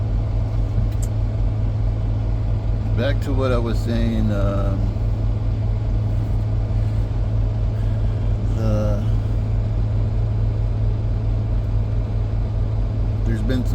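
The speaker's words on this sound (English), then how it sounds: "that's my truck. It's running because it cuts on and cuts off to keep the climate good in here" A semi truck's engine idles steadily, cycling on to keep the cab's climate right in summer heat, a low continuous rumble under someone talking nearby.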